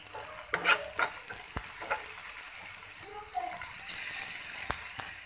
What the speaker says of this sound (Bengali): পেঁয়াজটাকে আমি ভালো করে ভেজে নিব